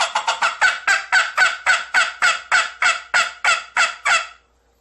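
Flex-tone turkey mouth call played by sucking air inward, giving a fast run of about fifteen sharp, raspy yelps that start quick and settle into an even, loud cadence, close up with no voices.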